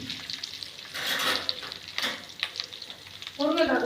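Drumstick pieces drop into sizzling tempering oil with vadagam and curry leaves in a pan for mango drumstick sambar, giving a steady close frying hiss with stirring scrapes and a louder sizzle burst near the end.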